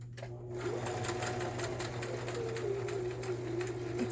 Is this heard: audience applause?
no